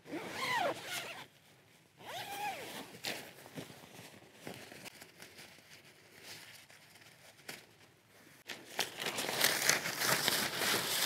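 Zipper on the door of a four-season tent with a solid inner pulled open in several long, close zips, with rustling and crinkling fabric between and louder handling at the end.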